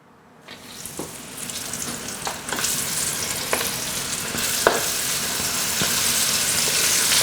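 Shrimp frying with garlic in a hot pan, a steady sizzle that grows louder, with occasional sharp clicks from stirring.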